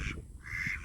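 Ducklings give a brief pair of soft, high calls close by, reacting to a bird of prey flying overhead, with no talk.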